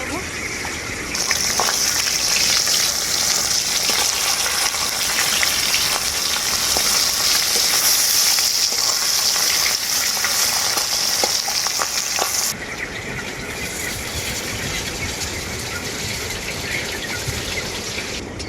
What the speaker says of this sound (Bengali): মাছগুলোকে আমি দু পিঠটাই পাল্টে পাল্টে খুব ভালো করে ভেজে নিয়েছি